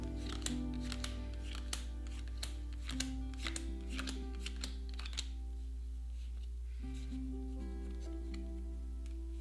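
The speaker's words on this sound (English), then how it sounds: "Shuffle the deck." A deck of Wingspan bird cards riffled and shuffled up close, a quick run of crisp flicking snaps for about five seconds, then quieter handling under a steady low background hum.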